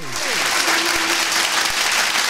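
A church congregation clapping loudly during a Telugu sermon, dense sustained applause from a crowd, with a voice briefly audible beneath it.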